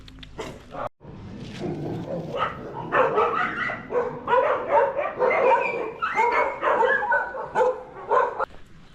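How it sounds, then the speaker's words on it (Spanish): A dog at a homestay in Guatemala barks repeatedly in a steady series of loud, close yaps that continue for several seconds with little pause. "Este ladra mucho."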